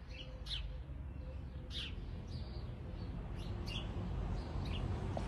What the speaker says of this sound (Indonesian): burung-burung di pohon.